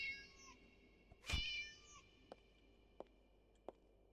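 A cat doll in a horror video game lets out one loud, clear meow, followed by a few short, sharp clicks and taps against a quiet background hum.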